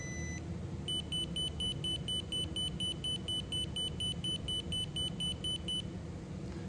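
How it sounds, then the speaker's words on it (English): A crossing signal beeps in a steady, rapid rhythm of high tones, repeating for several seconds over low traffic rumble. "the buzzer buzzes at the same pace to kind of warn pedestrians"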